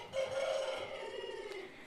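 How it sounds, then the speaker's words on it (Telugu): A rooster crows in a home kitchen where lemon rice is being prepared, a sustained call that is fairly close and clear, heard alone without any talking. "ఈ కోడి అయితే ఎన్నిసార్లు అరుస్తుందోనండి"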